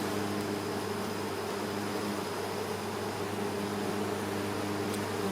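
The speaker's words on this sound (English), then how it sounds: "Baby, you are really pissing off the bees." Agitated honeybees swarming around an open, active hive, a loud, steady buzzing hum up close with no voices.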